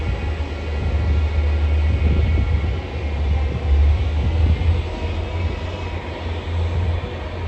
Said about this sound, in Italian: il treno regionale veloce di Trenitalia, proveniente da Udine e diretto a Venezia Santa Lucia, delle ore 18:49, arriverà al binario 1